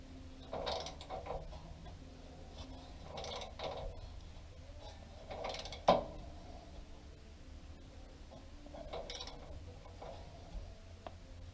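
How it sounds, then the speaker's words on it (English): Ratchet wrench torquing the lower shock bolt on a Toyota 4Runner during a shock swap, heard as several short bursts of clicking and creaking mechanism sounds spaced across the clip, with one sharper click near the middle, close and moderately quiet. "this lower shock bolt needs to be torqued to 70 foot-pounds"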